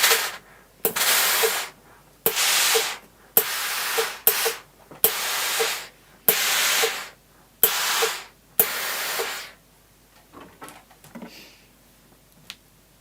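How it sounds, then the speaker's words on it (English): Bursts of steam hiss from an iron onto a fabric appliqué of a sausage dog, about eight firm, evenly spaced puffs each lasting under a second, then quieter handling sounds. "I'm just going to apply a little bit of steam"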